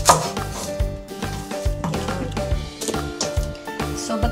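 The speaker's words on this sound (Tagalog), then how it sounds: "Ganito ako maghiwa ng onion." Knife chopping through an onion on a cutting board with a dull blade, a steady run of close, crisp cuts in uneven rhythm, each stroke ending in a light board knock, with no talk.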